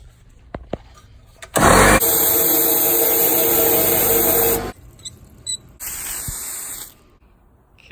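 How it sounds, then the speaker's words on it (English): An air compressor blows air through a nozzle to dry out a Ford Mustang GT fuel tank: a loud, close hiss lasting about three seconds, a short pause, then a second shorter blast. "now I'm just gonna get the air compressor and dry out the tank completely"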